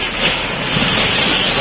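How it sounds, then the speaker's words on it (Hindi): Storm wind blowing over a flooding river (the Mahananda at Baisi, Purnia): loud, continuous wind roar and buffeting against the microphone with a rushing, surf-like hiss and no talk. "तूफान हो रहा है, तूफान देखिए।"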